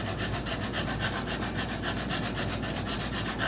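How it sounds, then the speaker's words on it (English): A block of wood with sandpaper glued on rubs steadily back and forth, enlarging a hole in a G&L Bluesboy guitar, producing loud, continuous rasping strokes up close with no speech. "I've got this piece of wood here with the sandpaper glued on it that I use for kind of adjustments like this."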